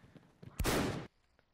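A single loud gunshot rings out in a video game prison setting, a sharp burst lasting about half a second against a quiet background.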